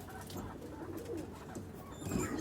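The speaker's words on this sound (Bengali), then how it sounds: "এই যে কবুতরগুলো আমার দেখেন, এই যে মাদি।" Pigeons coo softly in a rooftop loft, a few low rolling coos rising out of quiet background noise, with a clearer, louder coo near the end.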